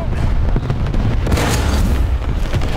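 A deep, heavy boom from an AMX-13 F11 tank shell exploding in War Thunder, a loud low rumble that fills the whole stretch with a brief sharper burst partway through.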